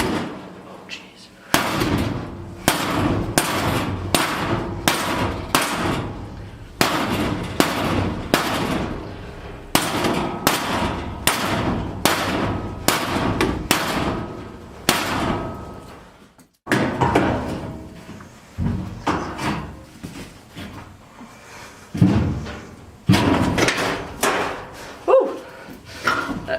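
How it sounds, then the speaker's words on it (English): A sledgehammer pounds seatback sheet metal in a series of loud, sharp metallic strikes in rapid rhythmic bursts, with a brief pause midway before more blows resume. "I just take the sledgehammer to both sides and see what happens"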